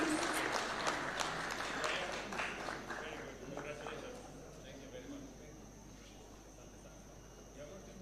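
Audience applause for award winners at a Taxpayers Day celebration at State House in Kenya, a fairly dense round of clapping that is loudest at the start and gradually thins toward the end, with murmuring voices mixed in.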